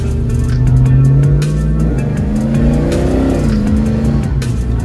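LS V8-swapped Sonoma mud truck on 46-inch tires revving during a street ride: loud, continuous engine roar with rising and falling pitch as the throttle is worked, close and dominant throughout.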